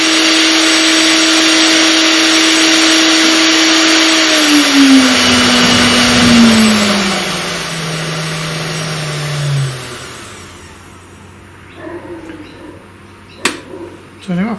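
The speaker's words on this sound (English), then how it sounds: "the noise that you can hear is the fan on the top, and it's actually blowing quite a bit of air" The cooling fan on top of an air-cooled 1.5 kW CNC spindle whirs at 20,000 RPM: a loud, steady whine that later slides down in pitch and fades as the spindle winds down, leaving faint clicks.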